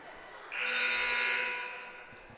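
A basketball game buzzer at a women's college game between the Lady Indians and Gulf Coast, one loud sustained electronic blare lasting about a second over faint gym ambience.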